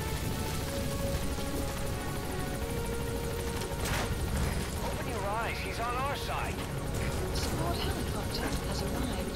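Helicopter from the video game Metal Gear Solid V: The Phantom Pain, a steady rotor drone running under the whole stretch while people talk and game sounds come and go.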